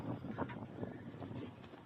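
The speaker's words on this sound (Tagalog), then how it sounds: "So medyo malakas yung hangin sa ngayon." Strong wind buffeting a microphone outdoors at a shooting test range, a loud low rumbling roar with gusty swells throughout.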